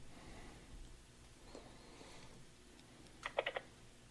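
A short burst of typing on a computer keyboard, a handful of quick close key clicks near the end after quiet background.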